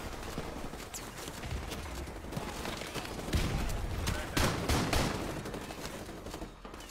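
Repeated pump-action shotgun blasts and other gunfire in Call of Duty: Modern Warfare Remastered, sharp bursts scattered irregularly amid game noise and occasional talking.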